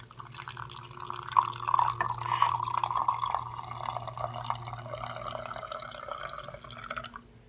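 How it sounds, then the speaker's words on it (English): Hot water at 160 degrees poured onto Zenkouen Superior Sencha tea leaves from Shizuoka, a steady, fairly quiet liquid splash lasting about seven seconds with no talking. "So I'm just going to go ahead and pour some of that in there."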